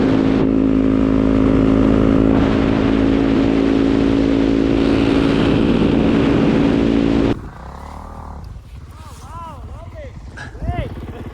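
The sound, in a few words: snowmobiles riding across a frozen lake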